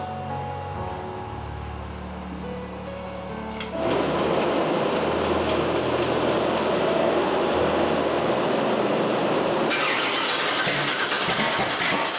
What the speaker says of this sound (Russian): Накачаем топливо. Слышно, как работает бензонасос.